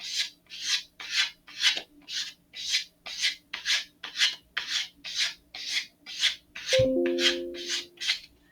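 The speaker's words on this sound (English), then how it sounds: "I'm going to switch over to just sanding the middle here for a little bit." Steady back-and-forth rasping of hand sanding on a wooden Estes Great Goblin model rocket, about a dozen even strokes, ending with a brief metallic clink.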